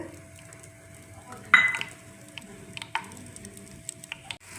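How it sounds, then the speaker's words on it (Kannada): Peanuts frying in a couple of tablespoons of hot oil in a pan, a soft steady sizzle with a louder burst as they hit the oil and a few scraping clicks of a spoon stirring, no voices. "ಬಾಣಲಿಗೆ ಸ್ವಲ್ಪ ಒಂದೆರಡು ಟೇಬಲ್ ಸ್ಪೂನಷ್ಟು ಎಣ್ಣೆ ಹಾಕ್ಕೊಂಡು ಕಾಯಿಲಿಕ್ಕೆ ಇಟ್ಕೋಬೇಕು ನೆಕ್ಸ್ಟು ಅದಕ್ಕೆ ಕಡಲೆ ಬೀಜ ಹಾಕ್ಕೋಬೇಕು"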